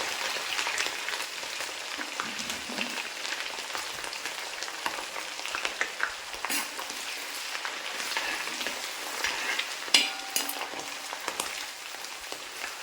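Crushed ginger frying in hot sesame oil for a small sardine pickle, a steady crackling sizzle with scattered sharp pops, close and continuous, with no talking.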